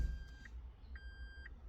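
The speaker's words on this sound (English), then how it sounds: "The computer did 2 long beeps." A Toyota transmission control computer sounds two long electronic beeps during calibration, a faint steady tone then a second longer one after a short gap, over a low idle hum.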